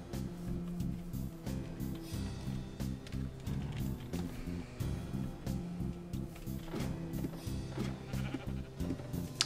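Sheep in a Minecraft-style video game bleat in several short repeated calls, faint and low in the mix with light game sounds and no talk.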